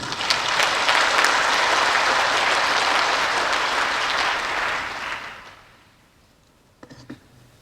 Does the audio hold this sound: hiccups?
no